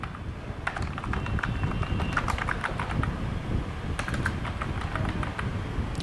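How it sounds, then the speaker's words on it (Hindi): Steady typing on a computer keyboard while entering text in WordPad, with rapid, close key clicks running continuously and a brief pause midway. "फिर हम रेगुलर टाइपिंग कर सकते हैं।"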